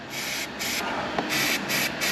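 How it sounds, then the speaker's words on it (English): An aerosol can sprays copper grease onto the ends of new 10mm bolts during clutch work on a Volkswagen Golf, giving a series of short hissing bursts separated by brief pauses. "spray copper grease, cover the ends of them"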